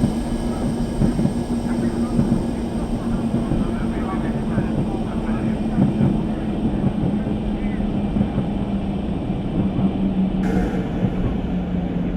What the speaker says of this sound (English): You really feel the heaviness of the train, and also, yeah, the speed.